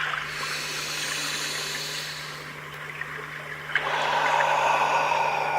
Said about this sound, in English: listening to the beautiful sounds of the water and the singing bowls